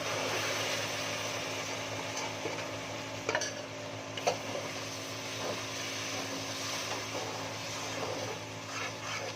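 Sugar syrup is poured into roasted semolina halwa in a pot, bringing a loud close bubbling sizzle under continuous stirring, with a few sharp scrapes and knocks of the spoon.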